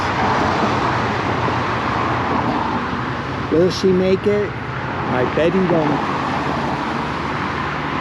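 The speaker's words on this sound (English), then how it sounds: "Lots of cars." Continuous roadway noise of cars idling and passing at a busy traffic light, a steady broadband hum, with people talking briefly over it partway through.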